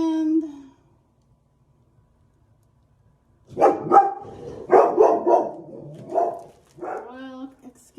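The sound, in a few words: dog barking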